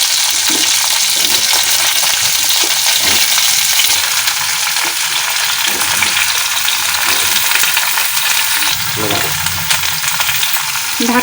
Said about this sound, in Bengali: সবজিগুলো সব একে একে ভেজে নেব।